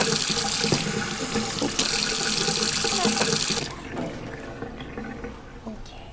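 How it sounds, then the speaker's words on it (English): Running water splashes loudly and steadily while a newborn baby is washed with soap, then drops to quieter trickles and drips. "Now we're going to wash the top part of his body, and we'll go from the neck down,"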